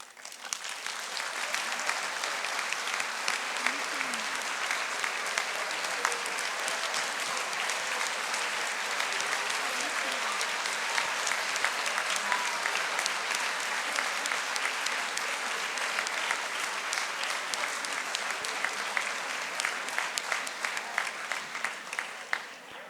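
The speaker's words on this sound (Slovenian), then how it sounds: "Z aplavzom bi vam radi izrekli iskrena hvala." Sustained, dense applause from an audience at a primary school's 50th anniversary celebration in Mojstrana, steady and loud throughout with no speech over it.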